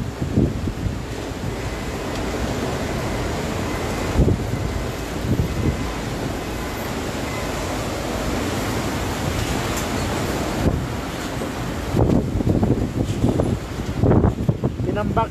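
Strong typhoon wind from Super Typhoon Goni roars steadily near Plaza Quezon on Elias Angeles Street, a dense continuous rush with gusty surges and buffeting on the microphone throughout.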